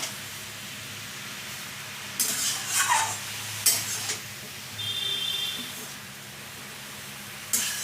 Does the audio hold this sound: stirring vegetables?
yes